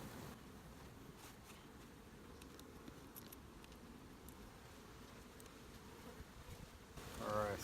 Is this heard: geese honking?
no